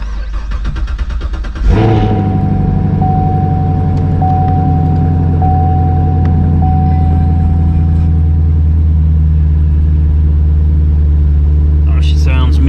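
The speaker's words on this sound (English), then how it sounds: "Let's do a cold start of the Camaro." A Chevrolet Camaro engine catching on a cold start after a brief crank, then settling into a loud, steady, deep idle close by for several seconds, with a voice speaking briefly near the end.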